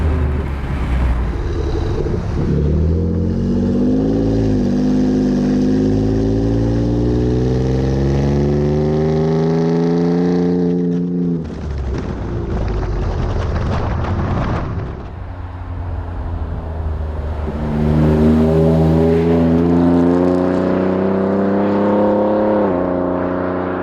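Ford F-150 Raptor with an aFe 3-inch stainless cat-back exhaust and dual side exits, engine note rising and falling through downshifts with loud revving surges and wind noise, no talk.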